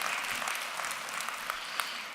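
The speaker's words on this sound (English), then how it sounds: "let's give a round of applause to these stories that have been shared this morning" Morning audience applause at a gathering, steady dense clapping at moderate distance with a few sharper individual claps standing out, no voices over it.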